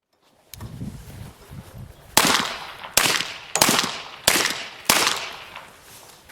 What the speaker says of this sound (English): That was again the GM45 suppressor from GEMTECH on a 1911 and 45 caliber